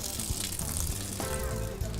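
Soaked cashew nuts drained outdoors in a garden, a steady rushing splash of water pouring off them, close and continuous with a faint tonal ring partway through.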